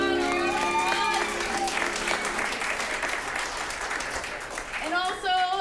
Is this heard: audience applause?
yes